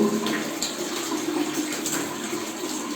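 Water gushes steadily from central heating radiator pipes in a building, a continuous close, loud rush with no pause.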